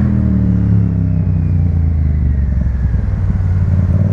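A motorcycle engine rumbles loudly and close by in traffic, idling and revving unevenly with some clatter. Other vehicle noise surrounds it, and no one speaks.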